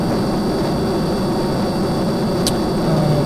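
A spaceplane engine roars steadily in Kerbal Space Program, a continuous broadband jet-like rumble and hiss at constant loudness, with no talk over it.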